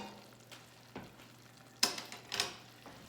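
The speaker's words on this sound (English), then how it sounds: "Stir in our baking soda." A spoon stirs baking soda into hot almond toffee just off the heat, giving a few soft scraping and bubbling bursts against a quiet background.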